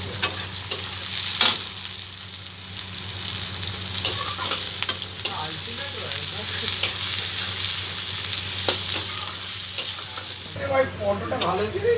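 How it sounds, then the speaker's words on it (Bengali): Onions fry in a pan for a chicken biryani, a steady close sizzle punctuated by repeated sharp scrapes and clicks of stirring, with no speech. "পেঁয়াজটা আমি ভেজে তুলে রাখি।"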